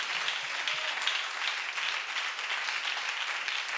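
A church congregation at a Sunday service applauding together, a dense steady wash of many hands clapping at once, moderately loud and unbroken for a few seconds.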